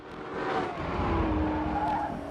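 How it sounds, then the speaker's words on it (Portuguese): A supercar races in fast, its engine roaring with rising and falling tones and a squeal of tires as it draws closer, loud and steady with no talk. "O ronco do motor remete a um carro de Fórmula 1 voando baixo na pista."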